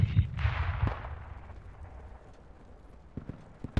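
Heavy booms and rumbling at the start, then a few sharp distant thuds near the end, like far-off mortar explosions in the game Project Reality.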